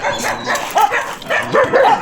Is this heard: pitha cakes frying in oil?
no